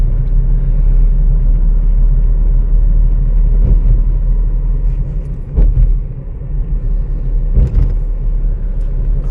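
Small and large vehicles rolling across a newly built road bridge, a loud, constant low rumble of engines and tires with a few louder passing swells and thumps, no talking.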